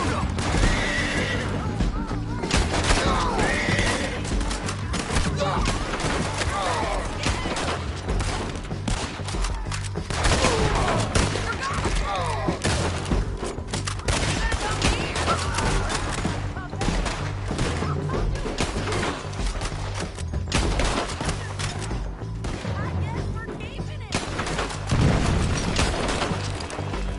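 Red Dead Redemption 2 town shootout with repeated gunshots and volleys mixed with horses whinnying and hooves clattering, all loud and busy, while shouting voices break in now and then.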